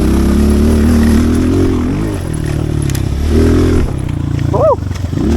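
A pit bike races around a dirt track with its engine droning loud and close, the pitch dipping and climbing as the rider shifts and throttles.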